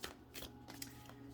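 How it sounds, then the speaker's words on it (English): Tarot cards are shuffled in quick, faint riffling bursts, four or five soft flicks spaced across a short moment, with no speech. "That's one more shuffle."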